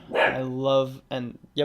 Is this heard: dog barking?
yes